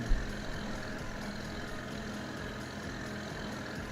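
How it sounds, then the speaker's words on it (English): A loud tractor engine idles steadily in Farming Simulator 22, a low, rumbling drone that holds even throughout with no other sounds. "This is a loud tractor"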